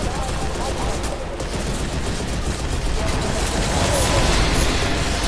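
Dense, continuous gunfire in the shooter game Crysis 2, rapid bursts blending into a loud, unbroken rattle with no pauses.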